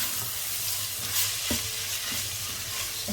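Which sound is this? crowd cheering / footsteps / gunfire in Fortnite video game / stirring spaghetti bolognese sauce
stirring spaghetti bolognese sauce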